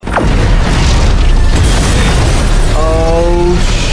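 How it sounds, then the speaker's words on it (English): A bomb explodes in a scene from the 2015 film Ant-Man, a loud, sudden blast that rolls on as a sustained, heavy rumble, with no talking over it. "Oh, the bomb."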